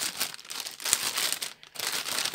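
Plastic parcel bag from an online order crinkling and rustling steadily while being handled during unpacking, close and fairly loud, with a brief pause near the end before the crackling resumes; no talking.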